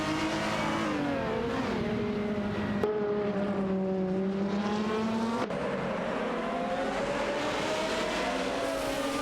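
Lister Storm race cars in a racing video game drone loudly and continuously, their engine pitch swooping up and down through shifts, with a couple of sharp clicks along the way.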